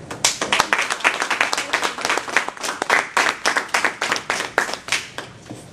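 Audience applause welcoming a speaker to the stage at a leadership speech event: a steady, fairly close burst of many hands clapping, dense and continuous for several seconds with no voices over it.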